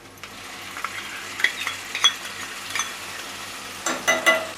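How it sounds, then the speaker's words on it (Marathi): Ginger-garlic paste is sautéed with softened onion and tomato for chicken sukka, heard as a soft sizzle with scattered spoon scrapes and clinks against the pan, some clustered near the end. "आता यामध्ये आलं लसणाची पेस्ट काढूया"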